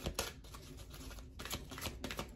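A deck of cards being shuffled, a dense rapid riffling patter with a few sharper bursts, close and steady throughout, no talking.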